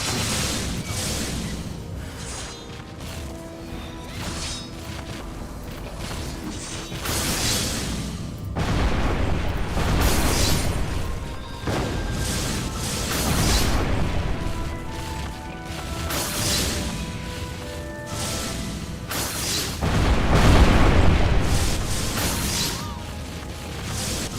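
Explosion trap blasts in a video game: a long, loud stretch of repeated booming bursts and crashing impacts, with rumbling swells recurring every few seconds amid clanking mechanical game noise, with no talk.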